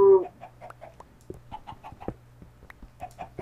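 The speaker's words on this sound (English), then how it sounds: "Give me more eggs, my baby chicken. Lay me more eggs." A chicken in the video game Minecraft clucks repeatedly in short, evenly spaced bursts over a low steady background hum, with no talking.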